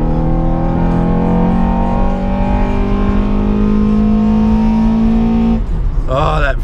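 2009 Acura TSX with an aftermarket intake revving hard toward 7000 RPM as VTEC engages, a loud, close engine tone climbing steadily before the revs drop off sharply near the end.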